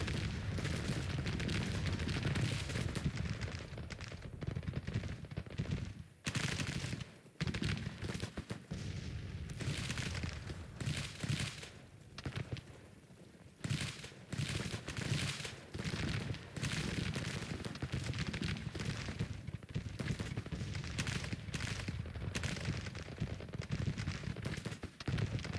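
Civil War troops fire continuously in the Grand Tactician strategy game, a dense rolling crackle of musketry with heavier booms mixed in that carries on for the whole stretch, loud and without pause.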